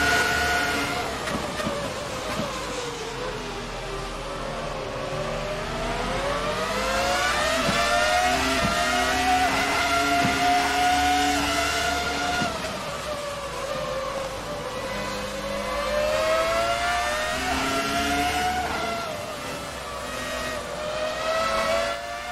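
A Formula RSS 2000 V10 race car engine of 805 horsepower screams through gear changes in a racing video game, its high wail rising and falling repeatedly in loud, continuous laps.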